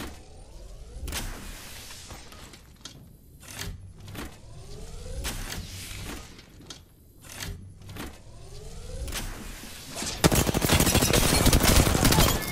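Rapid bursts of game gunfire crackle and whine at close range, separated by short gaps, then give way to a dense continuous clatter toward the end.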